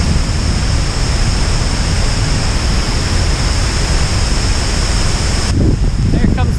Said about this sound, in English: Just going under another waterfall.